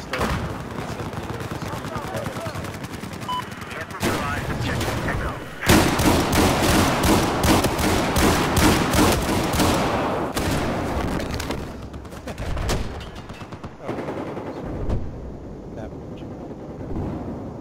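Close shotgun blasts and other gunfire ring out in an Operation Locker conquest match of Battlefield 4, with dense clusters of loud shots, bursts of rapid fire and busy battle noise between them.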